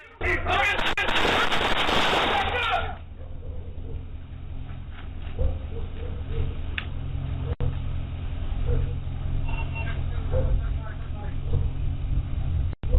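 Gunshots ring out during a police shootout with an armed robber at an illegal gambling ring: a few sharp, isolated bangs cut through steady vehicle and engine rumble after an opening stretch of loud, broadband noise.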